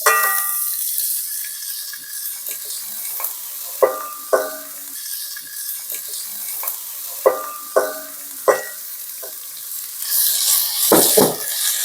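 Dried radish greens, mixed with seasoning, are stir-fried in a tablespoon of cooking oil: a close hiss and sizzle with repeated sharp spatula scrapes and clinks, and a louder burst of sizzling near the end, with no talk.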